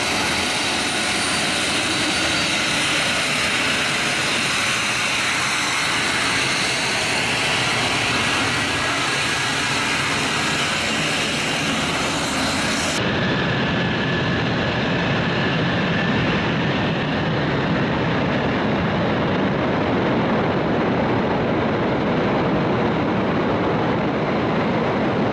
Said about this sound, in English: I'll let the aircraft do the speaking